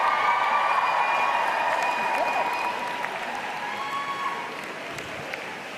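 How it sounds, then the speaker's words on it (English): A graduating class at a university convocation ceremony applauds, a dense, loud and sustained wash of clapping from a large crowd in a hall that fades slightly toward the end. "I invite the members of the graduating class to reciprocate by applauding your family, friends, faculty and staff, and all of those who have helped you reach this goal"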